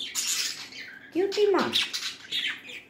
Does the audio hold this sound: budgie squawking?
yes